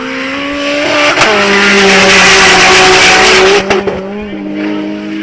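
A Toyota Corolla launches at a drag strip with a loud, sustained engine roar climbing in pitch, a sharp shift break partway through, then a falling note as it pulls away, with crowd noise faintly underneath.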